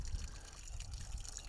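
Water flows steadily from a solid concrete ball water feature in a garden, making a continuous close trickling and splashing sound with small bubbling surges and no talking.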